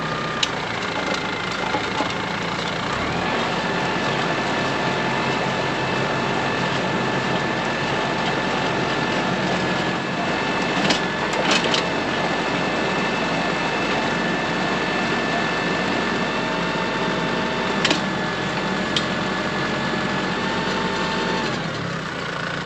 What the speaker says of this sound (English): I'm hoping that the digger will just grind through it